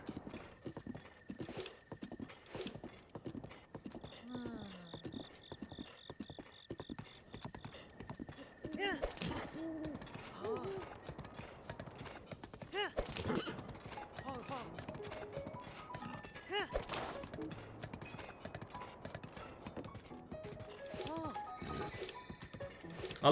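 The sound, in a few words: horse riding hooves in the video game Zelda: Breath of the Wild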